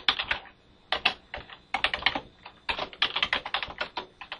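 Someone types a username on a computer keyboard, quick bursts of close, crisp key clicks in uneven clusters with short pauses between, no voice over them.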